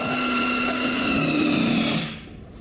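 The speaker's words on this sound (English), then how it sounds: "The sprayer starts to work." A steady airless paint sprayer pump (SPR390) hums and whirs at close range while building pressure, then cuts off abruptly, leaving a quiet background.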